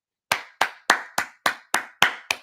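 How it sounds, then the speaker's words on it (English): Eight sharp hand claps in a steady, even rhythm, close and crisp with brief gaps of silence between each. "Hand clap, man."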